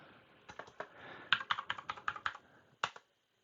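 Computer keyboard typing a password, a quick burst of a dozen or so crisp close key clicks in uneven rhythm, ending with one firmer keystroke before silence.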